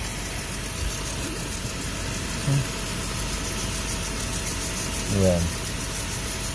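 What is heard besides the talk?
motorcycle engine idling nearby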